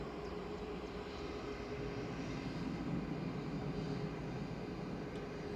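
A Boeing 787-8 Dreamliner at Manchester Airport, its engines producing a continuous far-off rumble and hum that swells slightly toward the middle, with no speech heard.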